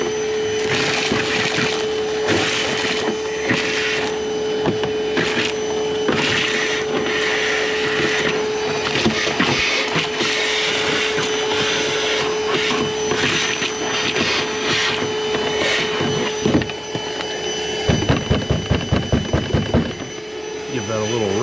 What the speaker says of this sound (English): definitely one of the easier ones to vacuum out